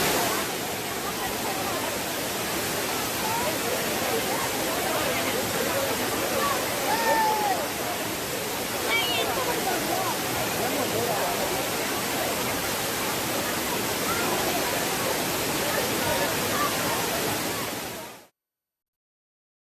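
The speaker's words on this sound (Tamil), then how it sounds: "கனமழை காரணமாக சுருளி அருவியில் தண்ணீர் கொட்ட தொடங்கியுள்ளது" Suruli waterfall in heavy-rain flow pours as a steady, dense roar of falling water, loud and constant from start to finish before cutting off abruptly near the end.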